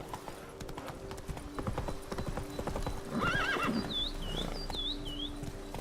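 Roach, a horse in The Witcher 3: Blood and Wine, trots with steady clip-clopping hooves throughout, then gives a loud, wavering neigh and whinny partway through, close and clear with no talk.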